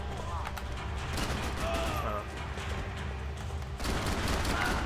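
Gunfire from the video game Max Payne 3 rattles in dense, rapid bursts amid loud action noise, with a voice speaking underneath at points.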